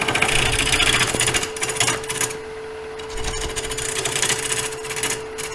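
A wooden log being turned into a bowl on a lathe, with a continuous rubbing, scraping hiss of the tool on wood over a steady motor hum, easing into a smoother tone partway through.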